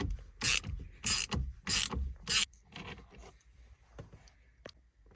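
A tool working a T50 bit on the steering wheel bolt of a Vauxhall Astra H gives four sharp, close mechanical ratcheting bursts in a row, followed by softer clicks and rattles.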